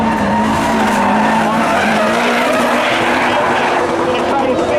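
A spectator drag race car at Seekonk Speedway slides loose on the backstretch at a summer thrill show, its engine roaring loud and steady with a tire skid running through, over crowd noise and a commentator's voice.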